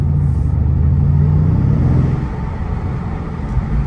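Car engine rumbling close by, a deep steady idle with low throbbing tones that smooths out and settles slightly quieter toward the end.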